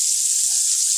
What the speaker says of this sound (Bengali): এবার একই তেলের মধ্যে আমি চিকেনের টুকরোগুলোকে দিয়ে দেব।